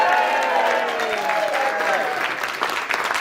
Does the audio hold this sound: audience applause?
yes